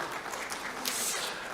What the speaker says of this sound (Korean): 박수까지 받을 일인가 싶지만